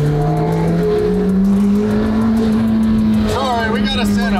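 A carbon-bodied McLaren Senna hypercar held at half throttle gives a loud, steady engine drone that climbs slightly in pitch, with people talking over it towards the end.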